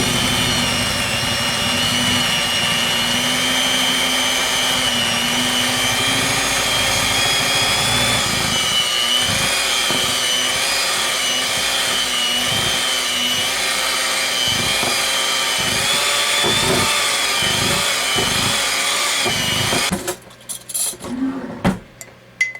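A whining electric mixer beats peanut butter cheesecake batter, a loud steady high motor drone with rhythmic knocks against the bowl, then stopping with a few clatters at the end.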